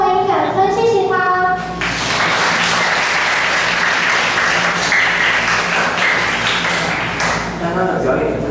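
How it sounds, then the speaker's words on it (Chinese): Sustained applause fills a stage event at an opening ceremony, thanking the club activity organiser; dense clapping runs loud and steady for several seconds, with a voice speaking briefly at the start and again as the clapping fades near the end. "让我们以掌声谢谢他"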